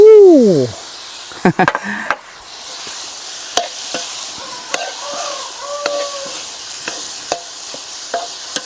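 Eel stir-fried in a pan for a spicy Thai curry dish, with a scraping stir and a few sharp utensil knocks, then a soft steady sizzle broken by light clinks, and someone talking over the cooking.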